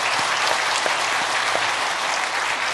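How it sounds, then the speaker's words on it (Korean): A church congregation claps steadily during a Sunday service, a dense wash of applause from a sizable room, with no voices over it. "성도님들 박수로 환영하며 축복하겠습니다"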